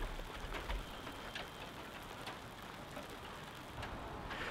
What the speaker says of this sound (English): Oh, look at this rain.